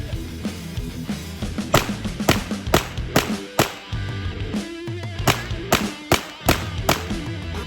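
Rapid strings of crisp gunshots from a Staccato XC pistol during range training, fired in quick bursts with short pauses, loud and close amid steady background noise.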